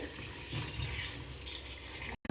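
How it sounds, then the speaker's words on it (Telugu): Hot water pours into a pot of cooked mutton for biryani, a continuous soft rushing splash heard up close at low volume, ending with a brief cut; no speech. "మటన్ అయితే ఉడికిపోయింది. ఇప్పుడు వాటర్ వేసుకుందాం."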